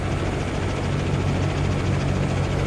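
A Bell 206L helicopter in Microsoft Flight Simulator 2024 gives off a steady, dense rotor and turbine drone at constant loudness throughout, with no talk.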